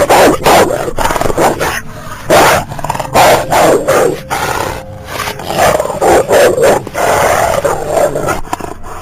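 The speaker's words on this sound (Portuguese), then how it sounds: "Latindo." A large dog barks repeatedly in rough bursts, with growly, harsh tones and short pauses between, loud and near.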